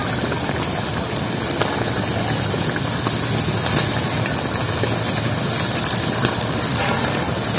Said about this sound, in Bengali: আর একটু উল্টে ভেজে নেব, যে দিকটায় আমার ভাজা হয়েছে সেই দিকটা একটু উল্টে দিচ্ছে